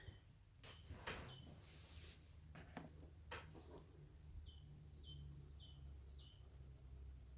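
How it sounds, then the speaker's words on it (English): Small birds chirp outside beyond an open window, faint and distant, with short repeated tweeting phrases and a few soft nearby taps and clicks. "There's a bird outside."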